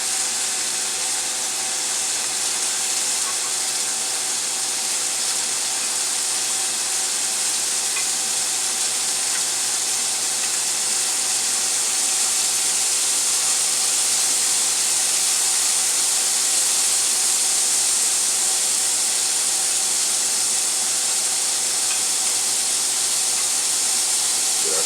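Steaks sear in a hot pan with a loud, continuous sizzle and hiss that holds steady throughout, close up and with no voices.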